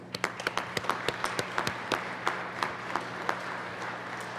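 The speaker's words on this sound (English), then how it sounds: "they'll give them a round of applause" Sparse, distinct claps echo through the Colorado Senate chamber for representatives and volunteers, a modest audience applauding at a moderate distance over a low steady hum.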